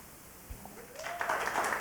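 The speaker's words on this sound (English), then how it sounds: "keep that round of applause going for Metal Desert" Audience applause for the act Metal Desert at a youth theatre camp showcase swells up after a quiet moment and continues as a steady, dense wash of clapping.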